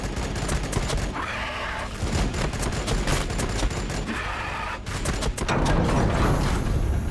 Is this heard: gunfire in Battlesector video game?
yes